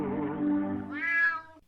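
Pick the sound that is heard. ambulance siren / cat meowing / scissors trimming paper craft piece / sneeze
cat meowing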